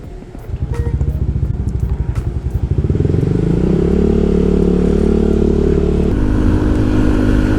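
A Yamaha Aerox 155 scooter on a ride along a wet road after rain, its engine droning loud and close, climbing in pitch as it accelerates, then holding a steady hum with a small shift near the end.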